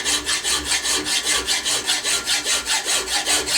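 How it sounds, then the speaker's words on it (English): A hand file rasps rhythmically across a metal touch hole liner for a gun, steady back-and-forth strokes roughly every quarter second, close and clear with no talking. "And then we're going to file this down"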